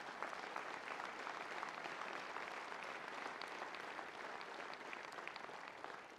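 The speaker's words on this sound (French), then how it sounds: "Et on peut le faire ce soir par vos applaudissements." An audience at a municipal election campaign meeting gives a steady, dense round of applause, many hands clapping evenly throughout, heard somewhat distantly.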